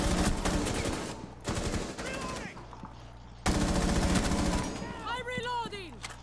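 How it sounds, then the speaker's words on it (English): Rapid bursts of gunfire and single shots from Rainbow Six Siege, loud and close, clustered in sharp volleys with brief gaps and a player's voice talking over parts of it. "all these shots popping off on me is bullshit right now"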